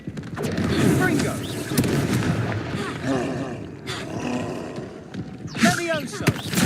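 Blasting Confringo spells fire off in Hogwarts Legacy, loud crackling bursts and roaring booms separated by short gaps, with a sharp fiery burst near the end over busy game sounds.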